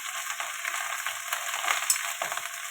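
Okra with turmeric and salt fries in a pan, giving an even, bright, continuous sizzle with faint stirring scrapes and no voices.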